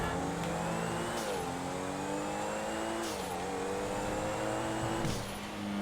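A Pfister Astrale car engine in GTA Online revs and shifts repeatedly, with a thin high turbo whistling whine riding above the engine note through each gear change.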